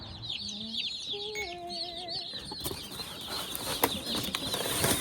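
Many young meat-bird chicks chirp at once in a dense, high-pitched chorus inside a shipping box at a post office, close by, with a few rustling thumps from the box later on.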